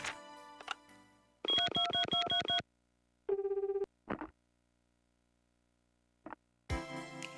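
Phone dialing in the video game Tokimeki Memorial 3: a run of rapid synthetic button beeps, then a steady tone and a few short electronic blips separated by silence, clean and close.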